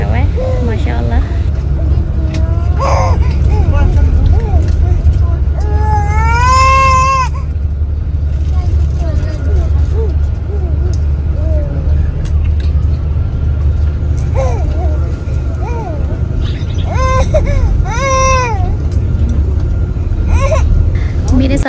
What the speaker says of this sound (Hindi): मेरी बेटी, जिसने पूरी गाड़ी में शोर मचाया हुआ है